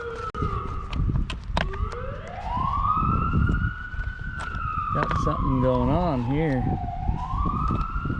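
An ambulance siren passes near a dirt bike walk-around, sweeping up and down loudly before switching to a rapid yelp pattern, with someone talking over it throughout.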